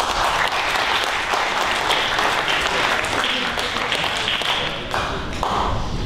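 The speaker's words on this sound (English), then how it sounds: "You guys don't get tired from clapping" A crowd at a memorandum of understanding signing applauds continuously, many hands clapping in a dense, loud wash that swells and dips slightly without stopping.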